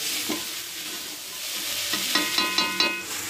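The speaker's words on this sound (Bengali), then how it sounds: "এইবার নেড়ে চেড়ে 5 থেকে 6 মিনিট সময় নিয়ে ভালোভাবে ফ্রাই করে নেব" Masala Maggi noodles frying in a pan, a continuous bright sizzle with spatula scrapes and knocks that grow more frequent toward the end; no voices.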